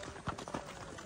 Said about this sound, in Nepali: हामी यस्तरी गइरहेछौँ घोडामा